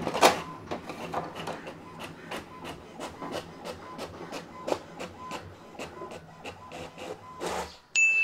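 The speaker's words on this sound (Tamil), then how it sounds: "இப்போ பிரிண்ட் வரும் பாருங்கள்." An HP Smart Tank 675 printer prints a page with a steady series of rhythmic mechanical clicks and feed strokes, close and moderately loud, ending in a louder whir as the sheet comes out.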